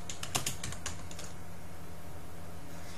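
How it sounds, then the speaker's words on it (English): Quick keystrokes on a computer keyboard while writing CSS code come as a short burst of soft, close clicks in the first second, then give way to quiet room tone. "So now I'll type in."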